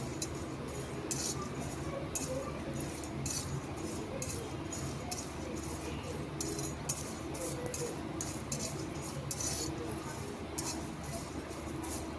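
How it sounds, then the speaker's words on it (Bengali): Whole cumin, bay leaves, cardamom and cinnamon are dry-roasted in a wok and stirred steadily, giving repeated light scraping and clinking over a continuous low background for several seconds. "শুকনো কড়াইতে মশলাগুলো একটু ভালো করে ভেজে নিতে হবে।"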